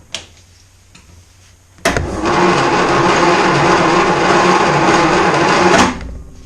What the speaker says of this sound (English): we've connected up the starter motor, and trust me, it's not going to give us any oil pressure